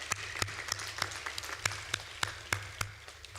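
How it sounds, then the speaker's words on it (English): Sparse, steady clapping at a university matriculation ceremony, a few hands beating at an even rhythm of roughly three claps per second, fairly close and dry with no talk. "can we clap for these matriculants?"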